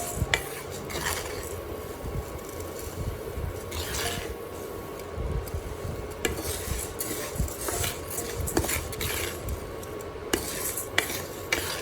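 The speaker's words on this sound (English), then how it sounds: "Begin by roasting the rice over high heat to quickly evaporate any moisture, then reduce to medium heat and stir constantly." Rice being stirred constantly in a dry, oil-free pan over medium heat, a spatula scraping and rasping against the metal with steady sizzling and occasional sharp utensil clinks, continuous and close with no talk.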